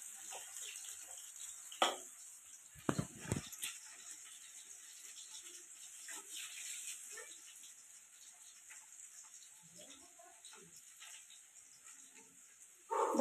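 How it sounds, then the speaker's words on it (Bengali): Potatoes fry in a pan, browning in oil with a steady, quiet high-pitched sizzle. A few sharp clinks and soft kitchen knocks cut in now and then. "এই যে আলুগুলোকে একটু লাল লাল করে ভেজে নেব"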